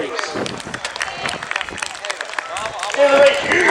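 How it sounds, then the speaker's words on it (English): An airshow crowd at Cosford applauds the engineers with steady, dense clapping. The applause swells toward the end and is mixed with crowd noise and some talk. "Big round of applause for the engineers, please."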